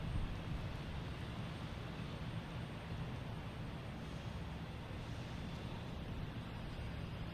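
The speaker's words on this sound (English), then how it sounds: "An A330 Delta coming in from London Heathrow." A Delta Airbus A330 comes in to land at Boston Logan, a distant, steady broadband jet roar with a low rumble that stays fairly even and faint throughout.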